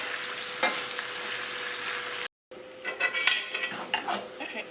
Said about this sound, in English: I'm gonna go ahead and get my bacon cooked up